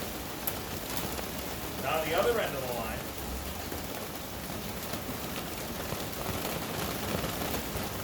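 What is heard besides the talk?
rain falling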